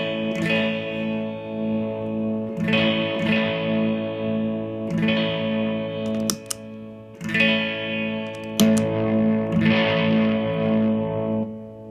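An electric guitar plays through a Run Off Grove Supreaux Deux pedal. Strummed chords ring out in a slow repeating pattern, thick with distorted grit and a little reverb, each chord sustaining before the next hit.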